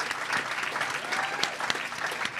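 Audience applause at a company product presentation, a dense, steady clapping from a crowd lasting a couple of seconds.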